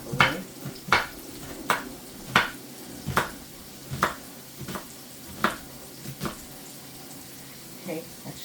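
Sharp knife strikes chop through roast pork on a cutting board, about a dozen crisp thuds in an uneven rhythm, close and clear over faint kitchen background.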